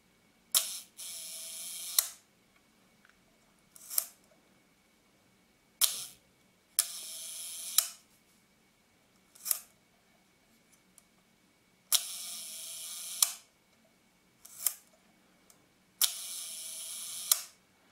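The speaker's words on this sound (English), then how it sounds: "So I cocked the shutter" Yashica-44 twin-lens camera shutter after repair, cocked and fired repeatedly: a series of sharp mechanical clicks and short whirring runs, several lasting about a second, separated by quiet gaps, close and clear with no talk.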